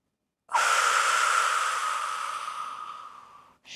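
One long, forceful exhale through the back of the throat during Pilates breathing practice, a close, breathy hiss that starts sharply, slowly fades over about three seconds and ends with a short new breath.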